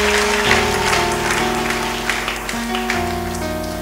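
A church congregation applauds in acclamation of Jesus, a dense patter of clapping hands with sustained organ or keyboard chords running underneath, fairly close and steady.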